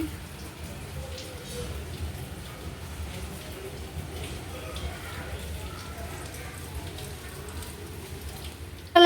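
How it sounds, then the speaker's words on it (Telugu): Rain falls steadily on a surface nearby, a soft continuous patter with no distinct drops standing out. "వర్షం అయితే పడుతుంది అనమాట క్లైమేట్ మొత్తం కూడా చేంజ్ అయిపోయింది వర్షం పడుతుంది"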